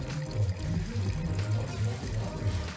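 Water pours out of the original radiator of a 1931 Model A Ford in a continuous, close gurgling flow with a slightly pulsing rhythm. It is fairly loud and runs alone without speech.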